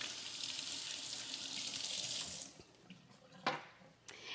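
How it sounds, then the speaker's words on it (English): Fingers rinsed under a running kitchen tap while making hummus, a steady splashing water stream for about two and a half seconds, then the flow stops and a few quieter drips and knocks follow. "So I'm going to just set this aside and rinse my fingers again."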